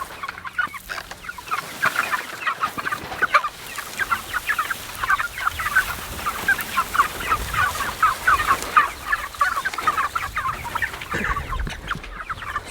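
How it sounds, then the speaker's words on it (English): Cornish Cross chickens on a homestead during a heat advisory cluck steadily in a busy, continuous flock chatter, close and fairly loud, with no talking. "Come on, chicken."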